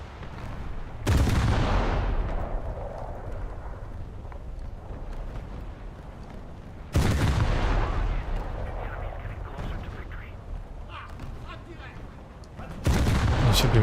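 Naval guns firing in a warship battle video game, three heavy booming salvos about six seconds apart, each with a long rumbling decay, loud and close.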